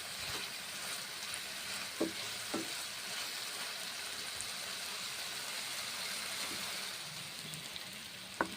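Green pea curry (motorshutir dom) being stirred and fried in a pan, a steady close sizzle with occasional scraping stirs and brief clinks.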